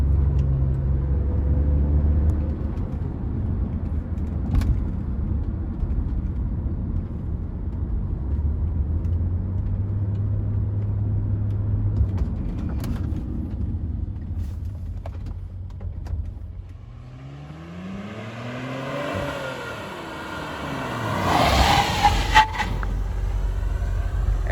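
A 2008 Saab 9-3 Aero is driven, its engine humming steadily from inside the cabin. Late in the run the engine sweeps up through rising revs, and a brief horn-like tone and road noise follow. No one speaks.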